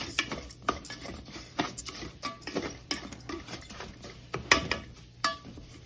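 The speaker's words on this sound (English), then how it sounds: "I will need to stir it up first. Coat every bit of these of the rice here in the oil." Long grain rice stirred in oil for Mexican-style rice, a spoon scraping and clinking against the pot in irregular bursts, close and fairly quiet, with no talking.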